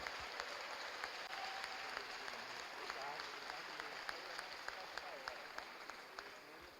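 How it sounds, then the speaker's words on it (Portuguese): A large church congregation applauds during a service, sustained clapping heard somewhat distant with crisper claps popping out, and faint voices underneath. "aplauda bem forte ao Senhor aqui nessa"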